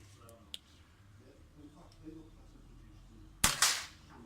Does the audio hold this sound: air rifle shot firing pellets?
yes